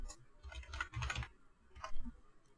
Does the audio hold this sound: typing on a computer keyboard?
yes